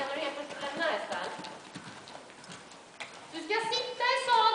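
A horse cantering during a riding lesson, its hoofbeats a steady near clip-clop under an instructor's voice.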